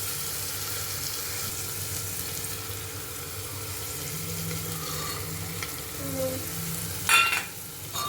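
Tomatoes and spices for pav bhaji sizzle and fry in a pan as a spoon stirs them, a steady close crackling hiss with occasional scraping strokes and a brief clatter near the end, no talking.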